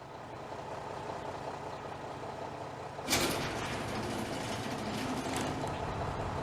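A heavy supply truck engine in Supermarket Simulator rumbles steadily, with a sharp hiss like an air brake release partway through, then continues idling.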